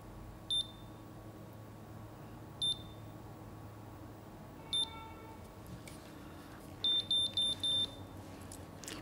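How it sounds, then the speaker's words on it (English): A Babyliss MiraCurl hair curler gives several short, high electronic beeps spaced a second or two apart, then a quick burst of four beeps near the end, each clear and close over quiet room noise. "The triple beep means it's done."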